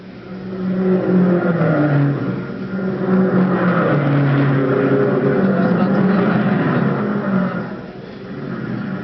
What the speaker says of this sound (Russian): A crewman polishes the windshield as Mullins moves away just 67 seconds after he stops.